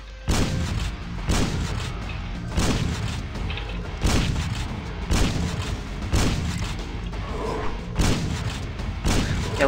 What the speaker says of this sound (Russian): Давайте-ка я попробую с него пострелять.